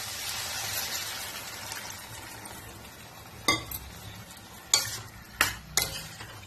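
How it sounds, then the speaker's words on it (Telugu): Tamarind pulp is stirred into a pumpkin stew in a pan, with a soft simmering hiss underneath and a few sharp clinks of a spoon against the pot near the end. "చింతపండు గుజ్జు వేసుకోవాలండి."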